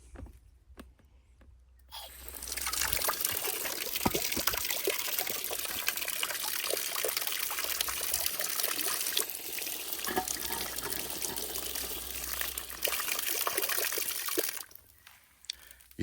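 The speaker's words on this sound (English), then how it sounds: "but if I add water" Water poured and splashed over freshly grouted tiles, a steady broadband rush lasting about twelve seconds with a quiet start and end, close and alone with no talk.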